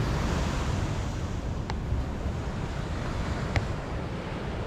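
Surf rolling in at Pandawa beach in Bali, a steady broadband wash of waves with wind buffeting the microphone throughout, no voices.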